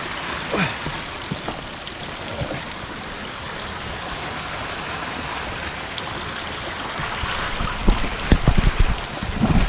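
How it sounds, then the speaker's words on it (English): A creek flows steadily through woodland, a continuous broadband rush of water with wind buffeting the microphone, and a few louder gusts and knocks toward the end. "I can hear the river."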